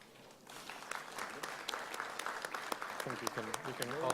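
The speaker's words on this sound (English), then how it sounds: "Big round of applause, please." Conference audience applause as experts come on stage at a blockchain event, clapping building steadily from sparse claps into fuller applause, with voices talking over it.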